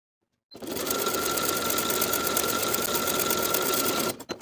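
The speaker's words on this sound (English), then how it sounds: "Then I'll edge stitch close to the upper inner fold all the way around" A sewing machine edge stitching a pajama sleeve hem runs in one continuous, steady burst of rapid needle clatter with a faint steady hum, close and alone, stopping abruptly.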